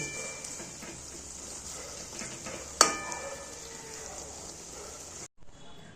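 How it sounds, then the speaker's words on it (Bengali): A spoon stirs bottle gourd and shrimp curry frying in a pan, with a continuous soft sizzle, one sharp metallic clink near the middle and a sudden cutoff at the end. "এবার এটাই আমি একটু নাড়াচাড়া করে দেবো।"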